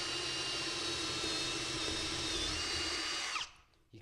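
A power drill whines steadily while boring through a hardwood floor board into the subfloor, close and continuous for a few seconds before spinning down and stopping.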